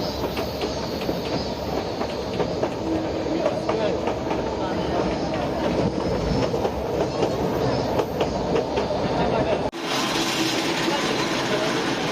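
An older train on a mountain route near Dashidaira Dam, Japan, rumbles steadily along the rails with rhythmic clickety-clack and metallic rattling, loud and continuous, then cuts abruptly to a quieter hum.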